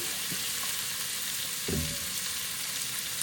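Mutton sizzles steadily in a pan with ginger garlic paste for yakhni pulao, a bright continuous frying hiss with a single low scrape of stirring partway through.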